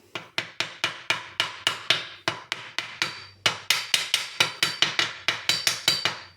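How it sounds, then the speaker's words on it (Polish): A rubber mallet taps parts into place during assembly of a 2.2 HDI engine from a Citroën Jumper, about twenty crisp, evenly spaced knocks in a steady, close rhythm with no talk. "Tak to idzie i gumowym młoteczkiem"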